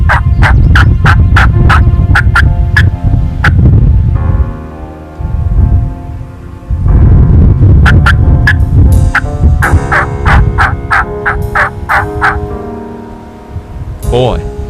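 Rio Grande wild turkeys gobble repeatedly in loud, close bursts, several rapid rattling calls in a row, then a pause and another volley, over a steady background rush like rain.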